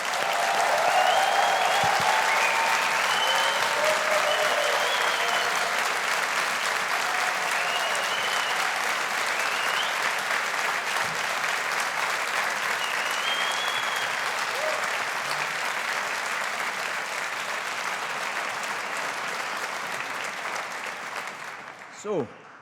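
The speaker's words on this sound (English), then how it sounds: "let's give the class of 2022 a big round of applause." A large audience applauds the graduating class at a university graduation ceremony in Strathclyde: sustained, dense clapping that fills the hall for about twenty seconds, then fades out abruptly with a final few claps and a brief bump.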